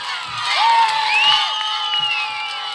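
A studio audience at a Bulgarian folk-dance contest cheers and whoops loudly and continuously, with high shouts rising above the crowd noise.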